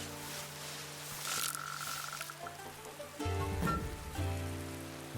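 Rain falls steadily in the video game Dead in Vinland, a soft continuous patter lying under tonal in-game music.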